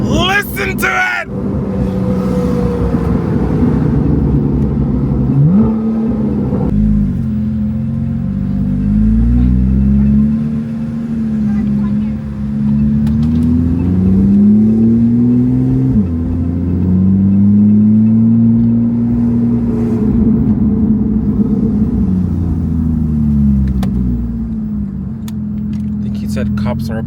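A Porsche 911 fitted with a cheap $300 Alibaba aftermarket exhaust revs and pulls through gears, a loud, raspy droning note rising and falling repeatedly, with people talking intermittently over it.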